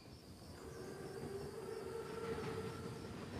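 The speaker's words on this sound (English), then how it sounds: "Train's right on time." Panzerzug armored train arriving in a WWII video game, a steady low rumble and rolling drone with a faint sustained whine, moderately loud throughout with no voices.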